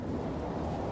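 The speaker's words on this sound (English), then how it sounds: "Windy." Steady wind gusts in the game Final Fantasy XIV, a continuous low rushing roar filling the whole moment, loud and close with no talking over it.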